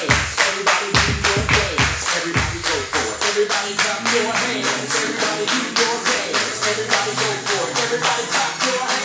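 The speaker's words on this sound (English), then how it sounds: "Everybody clap your hands, everybody do your dance." A group clapping hands in steady rhythmic unison, sharp regular claps repeating about three per second over music with a singing voice.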